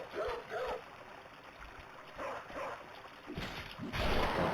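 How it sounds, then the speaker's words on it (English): A dog barks a few times in the Bloodborne PSX video game, short yelps spaced through a backdrop of flowing canal water. "Oh, bark."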